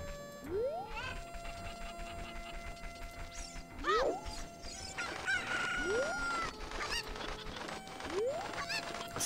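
Cuckoo chickens cluck and squawk in the video game Ocarina of Time, several rising calls spaced a couple of seconds apart over steady game music and effects.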